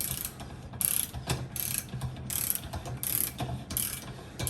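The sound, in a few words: torque wrench tightening trailer hub to 30 pounds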